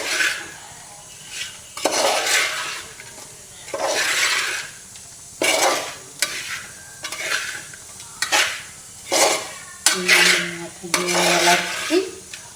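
Spoon stirring a mango pickle mixture with chilli, salt and mustard in a metal pot, repeated scraping and clattering strokes in bursts with short pauses, close and clear, with a faint sizzle underneath.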